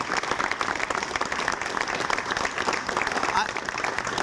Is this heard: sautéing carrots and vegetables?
no